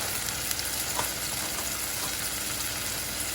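Blanched asparagus sizzles and fries in a hot pan with salt and pepper, a dense, steady hiss that is close and continuous with faint crackles and no talk.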